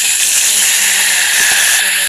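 Curry leaves hit hot oil already tempered with cumin, mustard seeds and whole spices, producing a loud, close, continuous sizzle and hiss that cuts off abruptly at the end.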